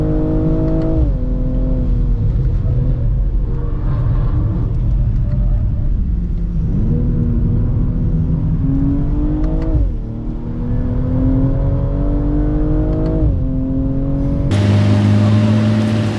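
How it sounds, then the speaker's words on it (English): A BMW M240 engine revs and pulls through a lap, its harmonic tone climbing steadily through the gears with repeated drops at each shift, loud and continuous from the cabin, with a brief burst of louder wind or road roar at the end. "I cannot do a sub 5 lap with the M240, but I'll do a lap."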